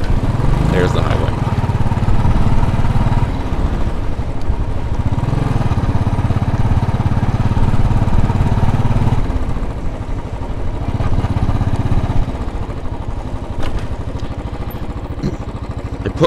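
A Royal Enfield motorcycle engine drones steadily with a low, loud rumble during a ride through Brooklyn streets. Someone talks over it at times, and the engine note dips briefly partway through.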